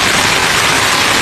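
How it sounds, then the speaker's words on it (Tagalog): Heavy rain at Nagatoro Shrine in Chichibu pours down in a loud, dense, continuous hiss close by, with no voices over it. "ang lakas ng ulan mga guys, no?"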